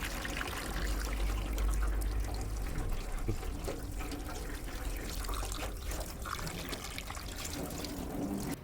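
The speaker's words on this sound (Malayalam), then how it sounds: "മീൻ നന്നായിട്ടൊന്ന് വാഷ് ചെയ്തെടുക്കണം കേട്ടോ" Tap water runs steadily into a sink while tilapia is rinsed clean, a continuous close trickle and splash with no talking.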